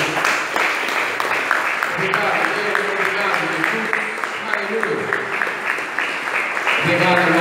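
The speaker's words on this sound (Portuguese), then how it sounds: "Dá uma salva de palmas para Jesus." A church congregation applauds during a sermon, steady clapping running beneath a preacher's voice and music-like tones that continue throughout.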